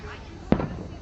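A single sharp Fourth of July firework bang cracks out once over a low background murmur, short and fairly close.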